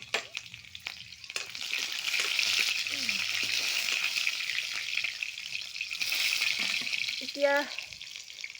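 Cumin seeds and green chilies fry in a pan with a bright, steady sizzle that swells after a brief gap and carries on close, while someone speaks briefly over it near the end.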